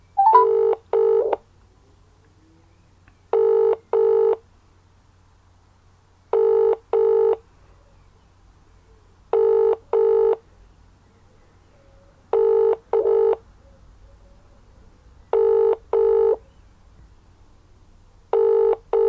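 Telephone dialing tones during a redialed call, short paired bursts of touch-tone beeps repeating at regular intervals of about three seconds, clean and loud with near silence between.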